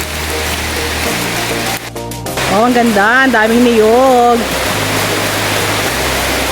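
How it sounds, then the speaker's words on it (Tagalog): A heavy, dense rush of rain in rural Lopez, Quezon, in the Philippines, fills the background while a person speaks briefly over it. "Naabutan tayo ng ulan"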